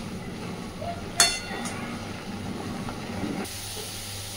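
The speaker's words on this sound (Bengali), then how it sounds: "এইবার সুন্দর করে ভাজতে থাকবো একটু সময় নিয়ে।" A spicy dish frying in a kadai, a steady hissing sizzle with a sharp spatter burst early on, the sizzle continuing close and even before turning brighter and louder near the end.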